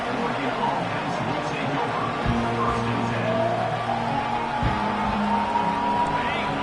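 A dense college football stadium crowd roars and cheers in a continuous wash of noise, with a commentator's voice running over it throughout.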